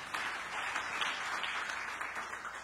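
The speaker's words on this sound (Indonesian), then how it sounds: "Tepuk tangan yang meriah bagi Tuhan Yesus." A church congregation at a sermon gives lively applause, a continuous even patter of many hands, faint and distant, with no voices over it.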